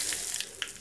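Mustard seeds spluttering in hot oil while tempering for a mango ginger pickle, a brief run of light crackles and a couple of sharp pops over a steady sizzle.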